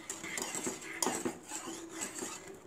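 Spoon stirring a hot chocolate mixture in a pan, with repeated scraping clinks and swishes in an uneven rhythm, close and moderately loud, no talking.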